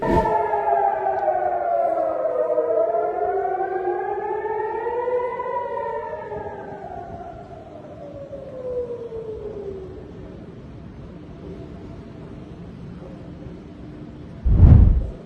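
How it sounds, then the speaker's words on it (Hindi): Air raid sirens at Ben Gurion International Airport in Israel wail, rising and falling in long sweeping tones, loud and sustained, then fade out; a brief loud thump lands near the end. "इजराइल के international airport Ben Gurion airport पर सायरन बज रहे हैं"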